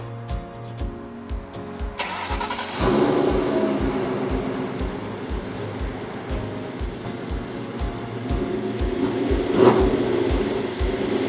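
A Ford Cobra Mustang convertible with a swapped-in Coyote V8 cranks with rhythmic starter pulses, fires up around the third second and settles into a steady, throaty idle with a light rev near the end.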